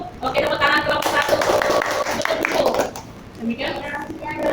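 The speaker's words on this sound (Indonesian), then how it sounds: "tepuk tangan kelompok 1" Classmates applaud a student group at a university teacher-training session, with scattered hand claps mixed with lively voices chattering and calling out over the clapping throughout.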